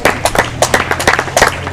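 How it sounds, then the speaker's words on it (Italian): A brief burst of clapping from a crowd at an Italian bocce championship final held at a beer hall, loud and close with irregular, overlapping claps. "un applauso"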